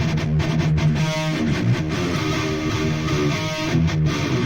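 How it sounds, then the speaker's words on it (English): Dense heavy metal guitars on a mixing guitar bus, a thick, continuous wall of distorted chugging riffs with steady loudness throughout, close and full with no voices. "This is, by the way, my guitar bus. It sounds like this."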